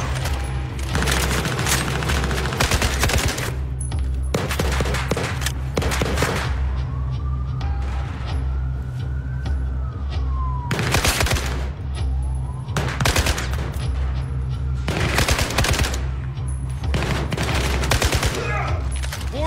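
Sustained gunfire and bursts of automatic fire in the video game Battlefield 4, during an urban firefight mission in Baku, with loud repeated shots over a constant rumbling battle backdrop and a voice speaking at times.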